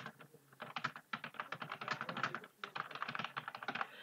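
Quick, steady keystrokes clatter on a computer keyboard while text is entered into a spreadsheet cell, with short pauses between bursts of typing and no voices.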